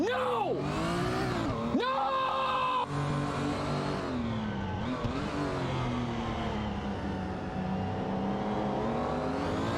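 Racing car engines in an AI-driven racing video game whine and rev continuously, pitch sweeping up and down through gear changes as several cars run close together, with a voice narrating over the steady engine drone.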